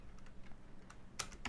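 Quick, faint keystrokes on a computer keyboard, a short irregular run of light clicks with a louder pair near the end.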